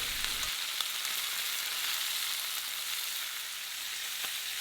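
Chicken pieces for a fricassee sizzle steadily as they pan-fry in hot oil, a constant crackling hiss up close with a few small pops and no talking.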